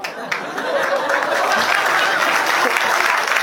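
Steady audience applause at a comedy stand-up show, a dense wash of many hands clapping that holds at an even loudness for the full length, with a faint chuckle or murmur from the crowd underneath.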